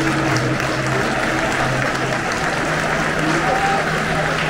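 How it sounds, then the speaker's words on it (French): A large stadium crowd at the Johan Cruijff Arena applauds and cheers in a continuous dense roar after an Ajax versus Benfica match, with scattered voices and chanting mixed into the noise. "Et ils sont largement applaudis par leur public"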